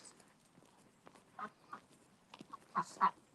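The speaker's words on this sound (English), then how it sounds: "They're quacking." Ducks quack in scattered, faint calls outdoors after an ice storm, a few short honking quacks spaced apart with quiet stretches between.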